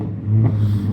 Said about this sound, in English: Oh, it's an old car.